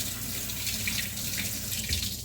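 Kitchen tap water runs steadily into a sink while hands are washed, a continuous close splashing hiss that shifts slightly as the hands move under the stream, with no talking.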